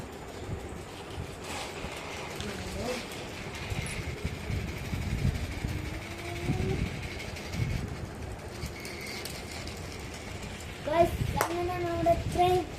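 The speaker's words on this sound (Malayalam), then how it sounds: "അങ്ങനെ നമ്മുടെ ട്രെയിൻ പോകുന്നത് കണ്ടോ ഗൈസ്." A train passes at a distance, a low steady rumble and rattle of rail wagons running on under scattered voices, with a brief horn-like tone near the end.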